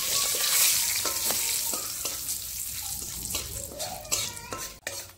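Whole garam masala, cumin seeds and bay leaf sizzle in hot oil, steady crackling broken by repeated clinks and scrapes of a spatula against the pan, louder near the start and with a sharp knock at the end.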